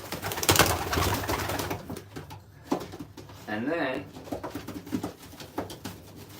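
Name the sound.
racing pigeons cooing in a loft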